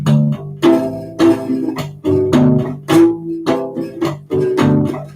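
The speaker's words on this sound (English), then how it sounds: "Minor would sound kind of like this" A minor chord strummed on a U-Bass, repeated in about eight loud, rhythmic strums with ringing low notes, played alone with no talking.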